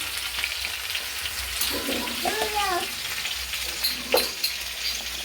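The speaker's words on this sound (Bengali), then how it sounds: "আলু পটলটা মোটামুটি ভাজা হয়ে গেছে সেভেন্টি পার্সেন্ট" Potatoes and pointed gourd fry in a pan with a steady, close sizzle and occasional stirring clatter, while a faint voice murmurs partway through.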